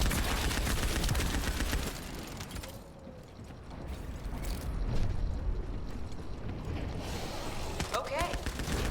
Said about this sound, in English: Tamer is a light machine gun.